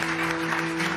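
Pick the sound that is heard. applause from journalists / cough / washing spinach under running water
applause from journalists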